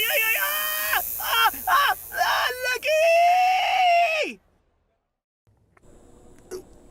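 A man cries out and yelps repeatedly in pain while being tattooed, a run of loud strained wails over about four seconds ending in a long drawn cry, then silence and faint background noise.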